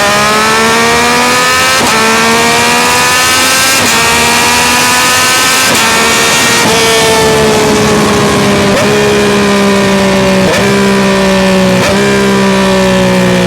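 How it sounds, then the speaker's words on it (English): A Yamaha R9 motorcycle with a Dominator GP3 full-system exhaust and ECU flash screams very loudly and up close, climbing through several quick upshifts with sharp breaks between gears. "If you guys want a loud exhaust, this is the option to go to."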